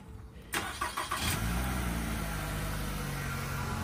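A remote-start car engine cranks a few times in the cold and catches, then settles into a steady, fairly loud idle with no talking.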